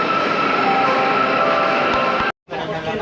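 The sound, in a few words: train ride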